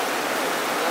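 A river stream flows in a steady, close rushing wash of water, broadband and even throughout the short moment with no voices.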